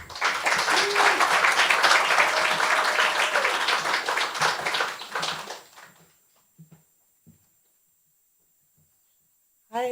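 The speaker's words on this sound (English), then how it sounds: "let's give a round of applause to Laura Varela" An audience at a poetry screening event applauds for Laura Varela with dense, lively clapping and some cheering. It fades out after about five seconds into near silence, and then a voice starts right at the end.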